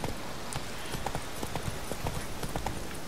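Horse hooves clip-clop in The Witcher 3 Wild Hunt, a quick, even run of hoofbeats that stays at a moderate distance over steady game ambience, with no voices.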